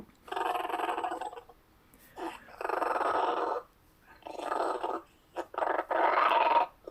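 A small dog growls nearby in four or five drawn-out rumbling bursts, with short quiet gaps between them.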